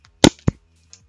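An airsoft pistol, freshly cleaned and reassembled, fires two sharp, close snapping shots in quick succession, followed by a faint click.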